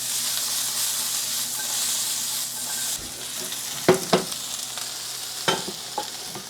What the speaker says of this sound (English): Let's go ahead and add the green onions in here.